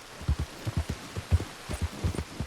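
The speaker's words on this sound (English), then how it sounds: "You could listen to this rain and almost go to sleep." Steady rain in the Red Dead Online game world, a soft continuous hiss with irregular low thumping pulses beneath, moderately quiet and without talk.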